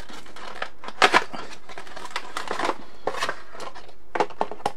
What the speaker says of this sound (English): If I can get the packet open.